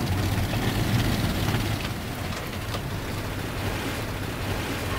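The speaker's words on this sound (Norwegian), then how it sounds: "Bølgene har tatt seg opp litt." Ocean waves washing around a sailing boat at sea on a passage toward Nova Scotia, a dense continuous roar of water and wind, loud and close, with no voices.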